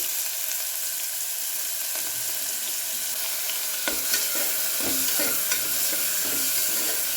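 Onions fry in a pan for mint rice, an even close sizzle running throughout, broken in the second half by a series of stirring scrapes and knocks against the pan, with no voices.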